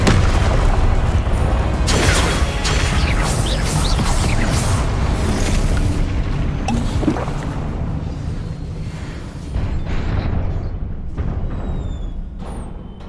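Explosive Confringo spell blasts in Hogwarts Legacy combat, loud booming bursts layered into a continuous roar of battle effects that gradually thins and fades near the end.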